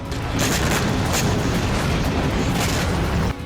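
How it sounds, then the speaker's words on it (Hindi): A dense, continuous roar of loud rumbling blasts with repeated bursts, like distant explosions blending together without pause, from a rocket attack in northern Israel. "उत्तरी इजराइल में एक के बाद एक कई धमाके हुए"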